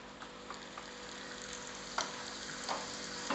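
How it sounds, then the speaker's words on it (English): Mustard seeds splutter in a teaspoon of hot oil, with a faint steady sizzle and a few sharp pops scattered throughout, quiet and close. "1 teaspoon of oil, mustard seeds. Once it starts spluttering, you can give a little hing."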